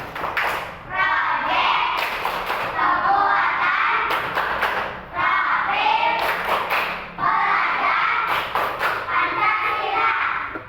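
Students in a classroom perform a patterned group clap, several quick bursts of crisp hand claps separated by short chanted phrases, loud and close, with young voices calling out between the rounds.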